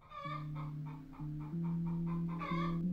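A chicken in the horror game Escape The Horror Hospital gives a run of clear, close, sustained clucking calls, one after another in a steady rhythm, with no speech over them.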